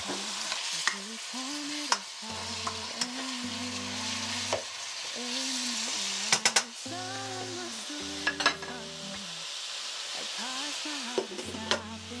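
Food frying in a pot while it is stirred, a steady low sizzle running throughout with scattered scrapes and clinks of the spoon, under a recurring tonal hum in the background.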